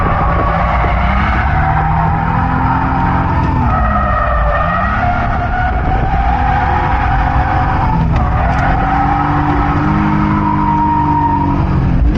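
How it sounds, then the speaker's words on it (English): Tires squeal and screech continuously as a BMW E46 drifts on a track, engine roaring and revving underneath, loud and close throughout. "I couldn't keep the car in drift for too long, and it started understeering"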